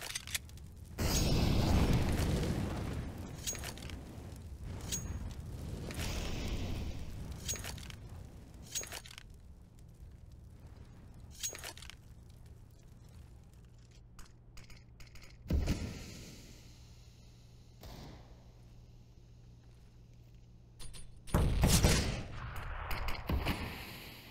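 Pistol gunfire from Counter-Strike gameplay in a CT-side round, several short sharp shots spread across the clip with quieter gaps between bursts.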